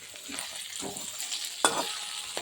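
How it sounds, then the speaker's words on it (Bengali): Bitter gourd stirred in a frying pan gives a steady sizzle with soft scraping strokes and a sharper clink of the utensil partway through, close and fairly quiet. "হালকা করে শুধু এপাশ ওপাশ করে নাড়তে থাকবে"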